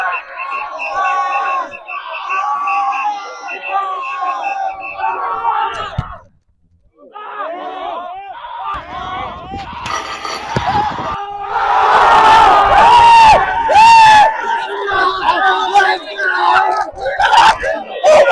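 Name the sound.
teammates booing like a rival student section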